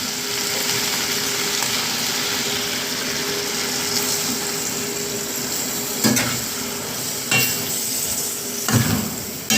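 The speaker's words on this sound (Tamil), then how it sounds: "பீன்ஸ் கறி வதங்கிட்டு அதுக்கு தேங்காய் பால் ஊற்றுக்கிறோம்." Beans curry being cooked in a pan as coconut milk is poured in: a loud, steady sizzle and bubbling fills the whole stretch, with a few louder bursts of stirring or pan scraping toward the end, and no talking.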